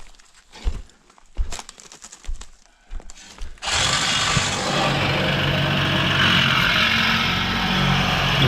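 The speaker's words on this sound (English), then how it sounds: "There's the sawzall." A Sawzall reciprocating saw cutting into scrap metal from a burned, dumped RV, starting after a few scattered knocks and handling noises and then running as a loud, harsh, continuous buzzing rasp.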